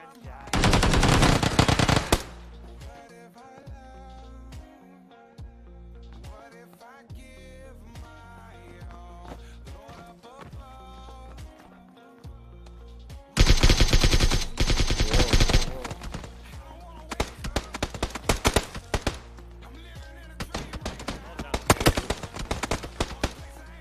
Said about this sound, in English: Ah, too many gunshots.